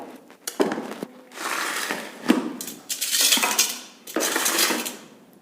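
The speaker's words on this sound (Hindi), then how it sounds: "अब इन सभी गाजरों को मैं चाकू की सहायता से थोड़े मोटे पीसों में काट लूँगी।" A knife chops carrots into thick pieces on a board, producing irregular sharp knocks and scraping clatter at close range, with no talking.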